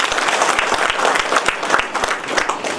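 An audience at a school event honouring SSLC and PUC students breaks into loud applause, many hands clapping together in a dense, steady burst that stays close and full from start to finish.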